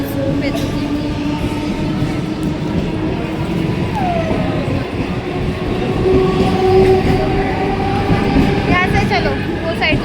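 A train at Titwala railway station, a steady loud rumble of the carriages with a brief horn-like tone, a long-lasting noisy wash throughout, and people talking over it.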